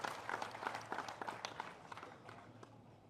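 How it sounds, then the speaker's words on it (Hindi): An audience at a Bihar RJD political gathering claps to welcome guests, scattered and fairly faint, individual claps sounding unevenly rather than as a full roar. "जोरदार ताली बजा के स्वागत करेंगे"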